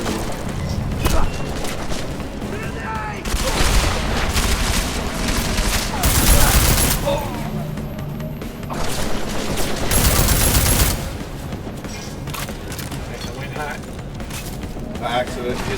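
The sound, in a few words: gunfire in the video game Deus Ex: Mankind Divided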